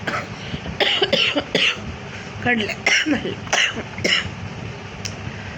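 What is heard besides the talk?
child coughing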